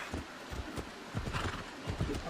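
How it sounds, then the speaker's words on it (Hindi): A horse in the video game Assassin's Creed Odyssey trots with close, rhythmic clip-clopping hooves and a short snort or whinny, with no one speaking. "मेरा घोड़ा है या क्या?"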